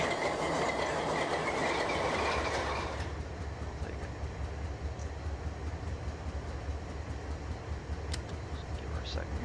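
A locomotive in the Run 8 train simulator game starts up, a loud broadband rumble for the first three seconds that settles into a steady low engine drone, with faint clicks and a brief high squeal later.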